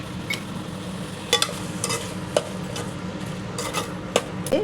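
Tomato and onion with salt and turmeric sautéing in a pan, a low steady sizzle with a spoon scraping and clinking against the pan in irregular strokes.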